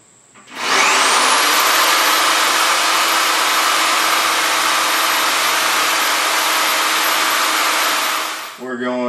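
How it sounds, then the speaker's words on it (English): A reciprocating saw rough-cuts along the sides of a piece of wood, a loud, steady buzzing rasp that starts abruptly and runs for several seconds before cutting off. "we're going to take our reciprocating saw and move up and down each side of the wood just to continue that rough cut"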